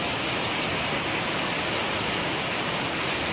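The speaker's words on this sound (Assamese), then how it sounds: "এতিয়া বৰষুণটো দিছে কি মজা লাগিছে চাওকচোন" Steady rain pours outdoors in a broadband hiss, loud and close, with no talk over it.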